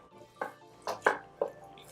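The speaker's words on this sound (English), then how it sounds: "I'm going to mix it." Beef and shallot meatball mixture is worked by hand in a bowl, giving four soft, wet, squelching pats spaced irregularly over a quiet background, close by and fairly faint.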